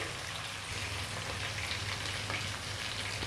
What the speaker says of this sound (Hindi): चिकन बहुत अच्छी तरह फ्राई हो गई है, अदरक लहसुन भी भुना गया है